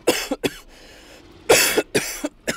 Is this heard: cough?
yes